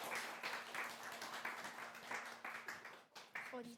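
A church congregation claps and applauds at a Sunday afternoon service, a steady broadband patter of hands with a voice speaking over it.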